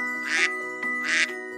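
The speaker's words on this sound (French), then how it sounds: "En effet, Twinkle, un adorable canard." Two short, bright duck quacks, about a second apart, rasping and close, with a faint tinkling tone held underneath.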